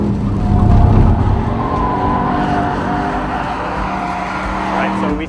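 A Porsche Panamera Turbo S E-Hybrid with 680 horsepower, in sport mode on the Losail International Circuit in Qatar, gives a loud sustained engine roar that swells and holds with rising tones, while a voice talks over it.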